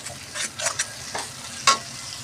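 Onions being stirred as they fry in oil in a pan, with a few scraping strokes and a sharper clink near the end over a steady low sizzle.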